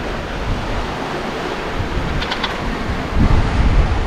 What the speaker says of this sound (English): We've got almost 25 knots of true wind today, which is a pretty good windy day